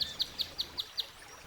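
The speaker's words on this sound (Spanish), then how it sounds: "¿escuchas los pájaros?" Birds chirp outdoors in a mountain setting, six short, evenly spaced bright tweets about a fifth of a second apart, fairly close and clear over faint background hiss, with no talking.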